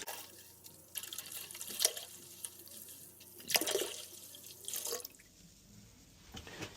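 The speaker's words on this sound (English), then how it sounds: "And now we'll let the tank fill up." Water runs into a toilet tank as it refills after a gallon of vinegar was added, a quiet, rushing trickle with a few louder surges and faint drips.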